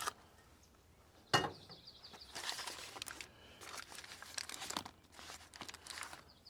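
Aluminum foil crinkles and rustles as it is handled around fish and garlic at a wilderness cooking spot, with soft, intermittent crumpling and one sharper crunch, fairly faint and close.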